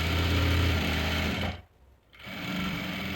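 Sewing machine running steadily while stitching a seam on a dhoti salwar, a close continuous whirring hum that stops briefly mid-clip and then resumes.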